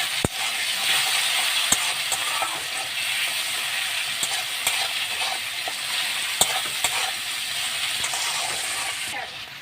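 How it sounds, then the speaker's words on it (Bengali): Tomatoes stirred and fried with onions in oil, a steady close sizzle under repeated stirring, with several sharp clicks of a spoon knocking the pan at intervals. "এবার আমি টমেটোটা পেঁয়াজের সাথে ভালো করে নাড়াচাড়া করে ভেজে নেব।"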